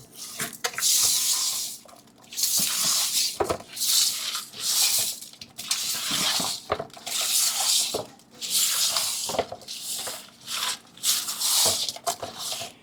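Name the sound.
stirring oil and rice in a cooking pot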